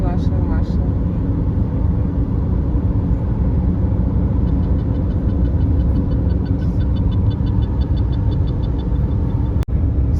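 Steady heavy traffic of lorries and cars on a Russian highway, a dense continuous engine and road rumble heard from inside a moving vehicle, with a sharp click near the end.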